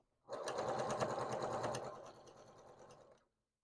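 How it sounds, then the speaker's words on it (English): Sewing machine stitching fabric as the feed dogs pull the material through, a close steady mechanical whir for about three seconds with a rapid rattling needle rhythm, ending abruptly, no talk. "Now the machine has feed dogs which will pull the material through"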